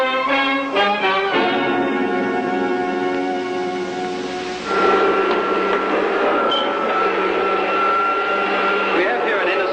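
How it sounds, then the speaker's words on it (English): A vacuum cleaner motor runs with a steady, buzzing whine that shifts to a rougher, louder drone halfway through, sounding continuously under people talking. "We have here an innocent-looking vacuum cleaner, which picks up the dust and the dirt very well"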